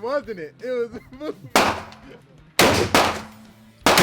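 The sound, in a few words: gunshot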